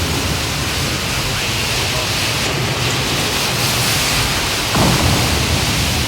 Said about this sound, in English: when it does rain, there are chances of a flash flood. There's one headed right for our tram.